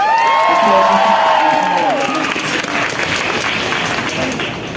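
A crowd breaks into loud applause and cheering, with whoops and shouts rising over steady clapping throughout.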